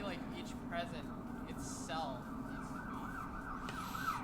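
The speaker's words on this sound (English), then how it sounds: "And there was a siren going by my place." A wailing emergency siren sweeps up and down as it passes by outside a home, heard faintly in the background under steady close-up talking.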